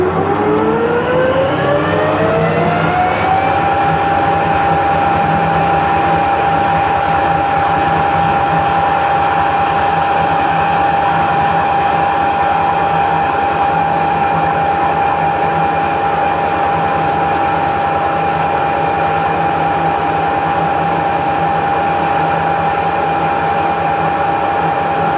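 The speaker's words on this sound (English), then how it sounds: "I'll do all that one end and then I'll flick it around and I'll machine them to length." A metal lathe spins up and holds a steady high whine while facing and machining steel studs to length for a 7.25 inch gauge steam locomotive, a loud continuous machining hum with no speech.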